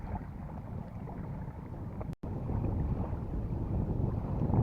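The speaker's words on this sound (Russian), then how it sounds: "На лодочке что-то с мотором случилось" A boat on open water in stormy, gusty wind where people are fishing; a steady low rumble of wind and engine-like noise fills the clip, broken by a brief cut near the middle.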